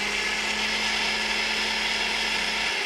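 Blender pureeing cooked vegetables in a kitchen, a loud steady whirring roar that runs unbroken and close for the whole stretch, with no talking.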